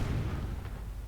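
A heavy gun fires during a Normandy beach-landing invasion video game, a deep, rumbling boom that fills the short moment with low, sustained thunder.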